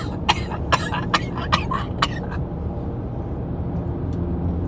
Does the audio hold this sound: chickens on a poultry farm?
no